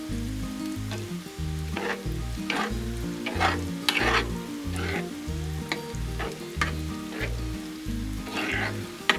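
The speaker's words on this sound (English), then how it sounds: "Let's stir that up now and see what we got." Breakfast burrito eggs being stirred on a Blackstone griddle: a steady sizzle with repeated scraping strokes of a spatula, close and clear, over a constant low musical backing.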